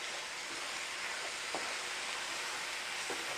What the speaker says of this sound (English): This is sizzling, and that's what we want.